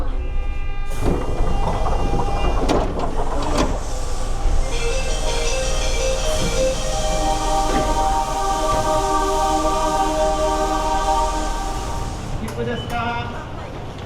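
A subway train in Osaka, Japan rumbles loudly and steadily, with rising electric motor whine and clacking wheels, and a chime or announcement tone over the roar.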